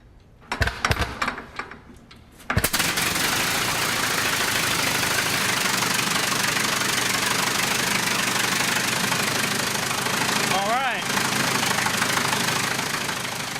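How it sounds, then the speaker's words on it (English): A replica Wright brothers aircraft engine is started: a few sputtering, uneven firings, then it catches into a loud, continuous running roar that holds steady nearby, with a brief squeak partway through. "how a Wright engine really sounds"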